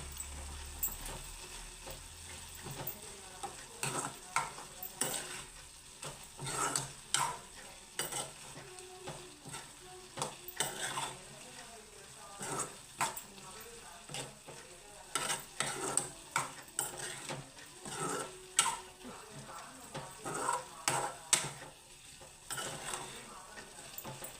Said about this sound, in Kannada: ಸ್ವಲ್ಪ ಗುರಾಡಿಸ್ತೀನಿ.